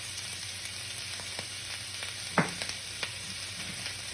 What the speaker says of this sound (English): I wanted to get this part of it going, this cabbage and onion kind of cooking up a little bit